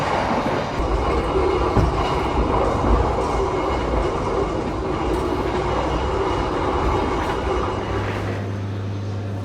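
An Indonesian executive passenger train rolls along with a loud, continuous rumble and rattling, and the car shakes noticeably. A low steady hum rises near the end. No one speaks.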